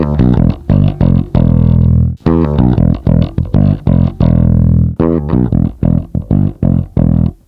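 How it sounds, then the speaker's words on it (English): Bass guitar through a JHS Pack Rat distortion pedal, heard as a loud, gritty distorted run of choppy notes and short riffs with brief pauses and no talking. "The cool thing about the JHS pack rat is each mode, there's nine of them, offers a slightly different style of distortion."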